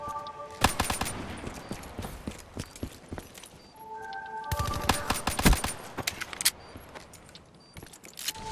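Gunfire rings out during a Black Ops 3 multiplayer bomb match, with sharp clusters of rapid automatic shots in two main bursts and scattered single cracks and game effects between them.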